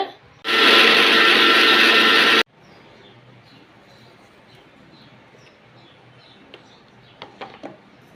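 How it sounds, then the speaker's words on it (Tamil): A mixer grinder powdering roasted urad dal roars loudly for about two seconds and cuts off abruptly, leaving quiet room hiss and a few faint clicks. "இந்த உளுந்தை பொடி பண்ணுற மிக்ஸி சாரில் போட்டு பொடி பண்ணிக்கலாங்க."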